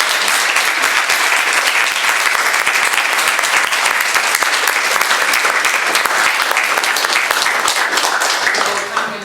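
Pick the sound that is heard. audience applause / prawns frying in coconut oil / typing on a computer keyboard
audience applause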